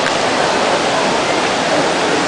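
Water of the Trevi Fountain in Rome pours and splashes in a steady, dense rush, close and loud throughout, with no break and no voices.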